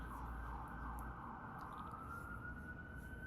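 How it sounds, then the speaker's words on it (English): A siren wails steadily across a New York street, its rising, falling tone sounding moderately distant and continuous over a low rumble of city traffic. "Sirens, classic New York."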